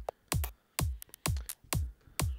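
Short glitchy percussion hits from an electronic track come in an uneven rhythm, with about six punchy low-thumping strikes and quick clicky fragments between them, close and dry.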